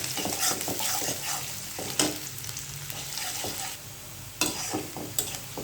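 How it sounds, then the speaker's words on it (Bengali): Chopped garlic fries in a pan with a bright sizzle, broken by the scrape and clatter of stirring utensils against the pan at intervals, close and without talk. "তারপর দেব একটু রসুন কুচি। ভালো করে ভেজে নিতে হবে।"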